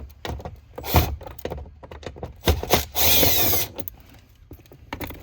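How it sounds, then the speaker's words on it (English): A power driver backs out two 10mm screws from the cargo cover of a 4th-gen Toyota 4Runner. Short bursts of motor whir come close up, with a longer steady run near the end, among clicks and handling noises. "there's 2 10mm screws right here. Remove these."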